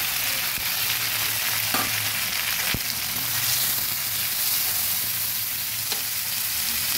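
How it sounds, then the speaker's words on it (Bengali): Turmeric, coriander powder and ground spices sizzle steadily in a pan for Bengali vegetarian chana dal, a loud continuous fry with faint scraping stirs and no voices. "আমি একটু জল দিয়ে মশলাটাকে ভালোভাবে ভেজে নেব"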